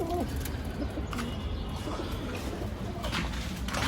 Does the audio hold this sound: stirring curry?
no